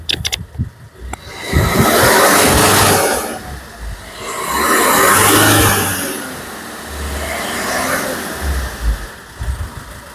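A fully company-serviced Maruti Brezza diesel is started with a brief rattle. Its engine is then revved loudly three times, each rise swelling and falling back to a clattering idle.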